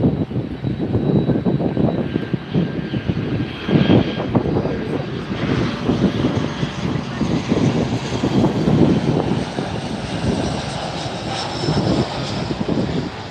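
An American airliner jet flies past at ground level at Miami airport, its engines giving a continuous, fairly loud roar that swells and fades gently as it crosses.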